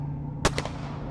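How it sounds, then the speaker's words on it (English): Gunshots fired in the night, two sharp cracks in quick succession, the first louder and the second slightly weaker, standing out against a low steady hum. "Gunshots. Surely gunshots aimed at me."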